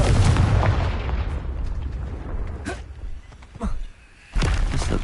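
Confringo blasting spell from Hogwarts Legacy going off in a dense, rumbling explosive roar, followed by several sharper blasts and booms in quick succession, loud and close with no talking.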